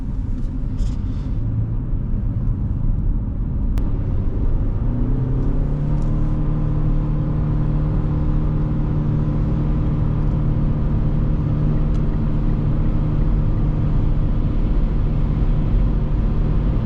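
Mitsubishi Outlander PHEV 2.4 AWD in sport mode, heard from inside the cabin: a steady low engine drone rises in pitch and then holds, with constant road and wind rumble beneath and no talking.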